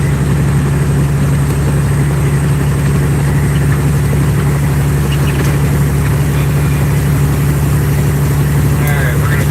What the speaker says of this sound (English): This truck is loud.